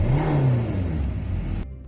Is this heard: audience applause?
no